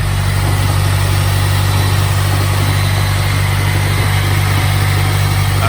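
Engine of a 2010 Mazda Speed 3 running steadily with a loud, constant low drone and vibration, held at a fairly even pitch throughout without a clear rise, no voices.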